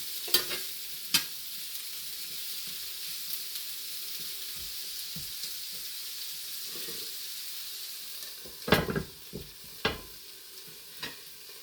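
Biscuit gravy is stirred in a pan, with a soft, steady sizzle broken by sharp spoon scrapes and taps, a few early on and a cluster near the end.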